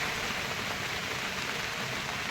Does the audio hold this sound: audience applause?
no